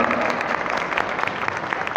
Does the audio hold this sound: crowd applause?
yes